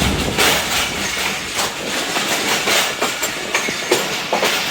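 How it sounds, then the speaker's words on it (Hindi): The Zikriya Express rolls into Karachi Cantt station with a loud, continuous rumble of wheels and rhythmic clickety-clack over rail joints, close by with no talk. "10 बजे 26 down Alauddin Zakaria express Karachi cantt railway station पर पहुंच रही है"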